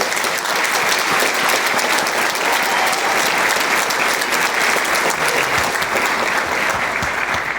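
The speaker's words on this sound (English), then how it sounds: "Please give them a round of applause." Sustained, loud audience applause at a junior high band concert for ninth grade band students, a dense steady wash of many hands clapping throughout with no talk.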